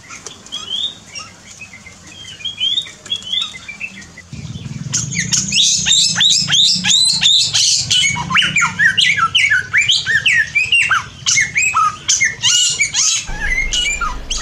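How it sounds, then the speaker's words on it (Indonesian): Samyong birds call loudly in a home aviary: a dense, continuous stream of shrill squawks and chirps with bursts of wing flapping, growing busier after the first few seconds and carrying on without any voices. "Kalau cuma sekedar menikmati suara aja, kita bisa mendengarkan si burung samyong ini"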